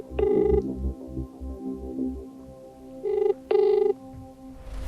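Telephone ringing for an incoming call: loud electronic trilling bursts, with a ring early on, a pause under a low backing music bed, then two more rings close together.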